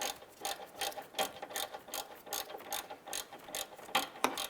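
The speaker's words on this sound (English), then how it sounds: "Let's go ahead and tighten up that bottom bolt." A ratchet clicks in rapid repeated bursts as it tightens the bottom bolt on a 2011-2019 Ford Fiesta water pump, close and fairly steady with brief pauses between strokes.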